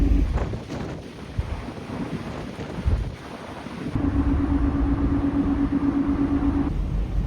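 Cold wind rushing over a microphone on the upper deck of a ferry, a steady rumbling roar that thickens halfway through, with low engine drone beneath.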